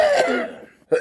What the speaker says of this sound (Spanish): Vaya, Pedro tiene tos.